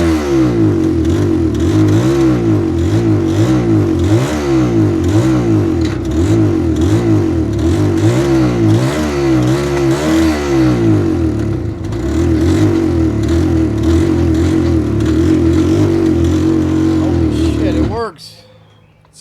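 A 1975 Suzuki T500 Titan motorcycle engine, revived after more than 20 years of sitting, runs loud and close, its revs rising and falling in repeated throttle blips for about eighteen seconds before cutting off abruptly.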